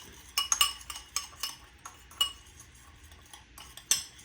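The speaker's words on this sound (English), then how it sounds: "now that we have those ingredients in the bowl, just mix them up" A utensil clinks and scrapes against a bowl while chicken rub ingredients are mixed, a series of sharp metallic taps and short stirring strokes, fairly close and quiet, spaced irregularly with small pauses.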